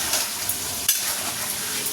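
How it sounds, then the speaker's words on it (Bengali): Sliced potatoes seasoned with turmeric and salt fry in oil, giving a steady, close hiss with one brief scrape of stirring partway through and no voices. "আর এই যে আলু ভাজতে বসিয়ে দিলাম।"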